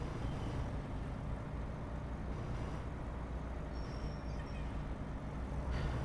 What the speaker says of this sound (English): I want to say they've improved the sounds on this truck.